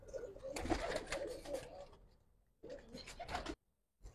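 Giribaj pigeons of Old Dhaka coo close by in two rolling bursts separated by a short pause, throaty and fairly faint.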